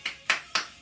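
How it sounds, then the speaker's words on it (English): Three sharp, loud hand claps at a kettlebell workout session, close to the mic and evenly spaced about a quarter second apart, each with a short ringing decay. "And a big clap."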